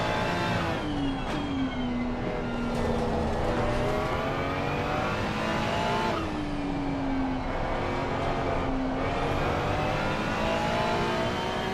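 A race car engine on a flying lap in Assetto Corsa Competizione at Valencia, loud and continuous, pitching up through the gears with brief drops at shifts and braking, then climbing again.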